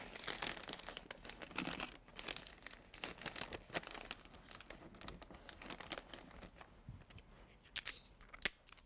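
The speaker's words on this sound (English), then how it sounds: "then you want to slowly and gently fold these edges in, just like you did on the bottom." Wrapping paper crinkles and rustles close up as its edges are folded around an odd-shaped package, soft continuous crumpling with a few sharper crackles toward the end.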